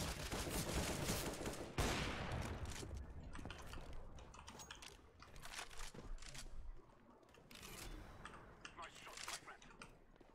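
Rapid AK-47 gunfire from a CS:GO match, dense bursts of automatic shots with mechanical clicks, running under background talk and game noise.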